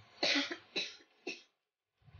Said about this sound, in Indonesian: istri saya batuk guys